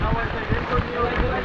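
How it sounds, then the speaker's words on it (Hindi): Rain falling at Bakkhali sea beach, a dense, steady hiss with wind rumble buffeting the microphone, no voices during the stretch. "अभी फिर बारिश शुरू हो गया"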